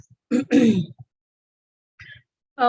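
A person clears their throat with a couple of short rough bursts, followed by quiet and a faint brief sound.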